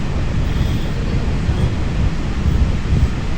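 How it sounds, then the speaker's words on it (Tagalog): Loud, continuous wind roaring and buffeting the microphone on a Honda Rebel 500 motorcycle riding an expressway, a dense low rumble with no break. "kaya medyo malakas ang hangin, expect that"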